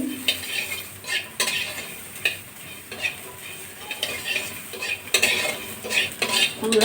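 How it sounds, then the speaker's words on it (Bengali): Spices dry-roasting in an oil-free wok for a drumstick-leaf mash, stirred by hand, giving repeated scraping clinks and rattles at a steady, moderate level, with no talking. "আস্তে আস্তে নাড়াচাড়া করে এগুলো একটু ভেজে নিচ্ছি"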